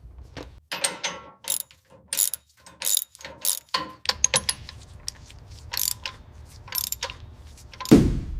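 A ratchet torques down mounting bolts on a BMW E30, giving close, crisp clicking bursts in irregular rhythm, ending with a brief heavier clunk.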